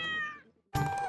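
A cat meows from a television: one drawn-out, falling meow, a brief pause, then a second louder, harsher cry that cuts in abruptly.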